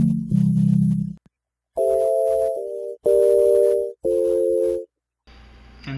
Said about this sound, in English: this is a sine.